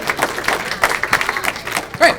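A comedy club audience applauds in response to a stand-up comedian's show-of-hands question, a dense wash of clapping from the crowd, steady and fairly loud, with a few louder bursts.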